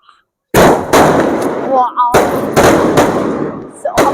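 Sivakasi fancy firecrackers go off together in a loud barrage of sharp bangs and crackling pops, with several heavy blasts in a row, whistling streaks and continuous crackle between them.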